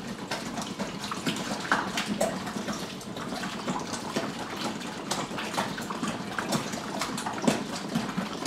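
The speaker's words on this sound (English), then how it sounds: "before I add the cool water" Cool water pours steadily into a home-brew beer fermenter for a Coopers Draught kit, a continuous close, splashing gush that runs throughout.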